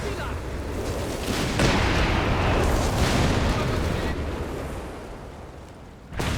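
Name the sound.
artillery barrage in video game Company of Heroes 3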